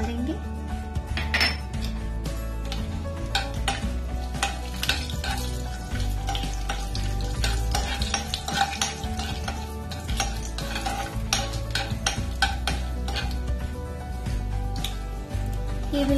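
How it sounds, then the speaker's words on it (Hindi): Cumin seeds frying in hot oil in a pan, a continuous sizzle mixed with repeated clinks and scrapes of a utensil against the pan, heard close with no speech. "ये देखिए तेल गर्म हो चुका है, तो हम ये जीरा ये सब डाल देंगे।"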